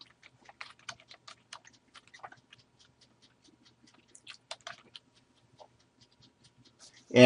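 Sparse, quiet clicks of typing on a computer keyboard, scattered irregular keystrokes with pauses between bursts, close and faint, ending with a louder thump, no talk.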